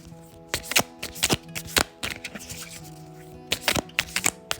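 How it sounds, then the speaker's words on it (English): Tarot cards being shuffled by hand, a run of crisp riffling and tapping bursts with brief pauses, close and fairly quiet over a faint steady background hum. "I am shuffling the cards."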